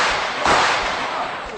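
A single sharp gunshot crack, a warning shot fired into the air by police, bursts out suddenly and is followed by a short fading echo.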